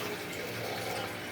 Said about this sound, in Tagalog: So ngayon nagpupuno na tayo ng tubig.